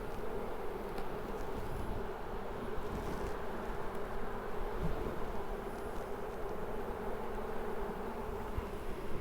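Honey bees buzzing around an open hive during an inspection, a dense continuous drone close by, steady in loudness throughout.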